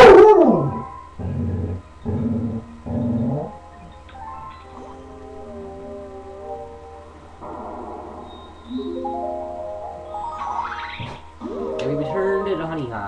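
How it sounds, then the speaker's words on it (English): A dog barks and howls in the background in several bursts with gaps between them, heard behind gameplay music and sounds from Super Mario Galaxy. A person talks at times. "I'm not sure if my fans can hear me right now because there's a dumb dog"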